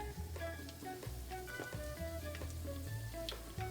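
Steady, crackling sizzle of Jamaican fried dumplings in hot oil, with faint pops and soft scraping throughout, close and continuous with no talking.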